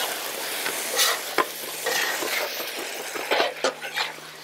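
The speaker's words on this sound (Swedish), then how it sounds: "Då går vi in med kycklingen och korven och så får det jobba en stund." Chicken and sausage sizzle and fry in a paella pan, a steady close frying hiss broken by scraping stirs and clinks of a utensil against the pan.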